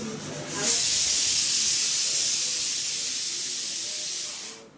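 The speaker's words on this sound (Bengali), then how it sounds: "আম্মু মাছ ভেজে রাখছে" Fish frying in hot oil gives a loud, steady, close hiss and sizzle that swells up suddenly and holds almost unchanged before fading out.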